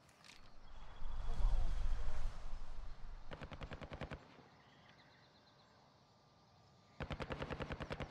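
Enemy gunfire from a rooftop in the video game DMZ, two short rapid bursts of automatic shots at moderate distance, separated by a stretch of ambient battlefield noise and a low rumble.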